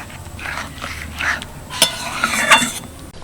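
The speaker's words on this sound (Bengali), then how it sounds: "এবার আমি ভুজিয়াগুলো দিয়ে দেবো ভালো করে মিশিয়ে নিচ্ছি" A spoon scrapes and clinks in a pan as egg bhujia is stirred into simmering gravy, with soft repeated scraping and a few sharper metallic knocks, close by.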